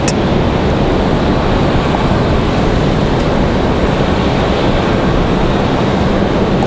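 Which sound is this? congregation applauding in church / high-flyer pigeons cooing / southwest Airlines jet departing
southwest Airlines jet departing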